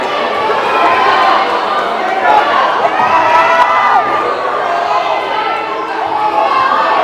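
A large crowd cheers and shouts continuously at a high school boys' wrestling match on senior night, a loud, sustained roar of voices with children yelling, filling the whole stretch without letup.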